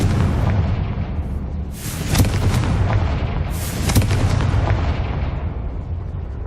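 A Confringo fire spell in the game Hogwarts Legacy sets off booming explosions over a continuous roar, with two strong blasts standing out, loud and dense throughout.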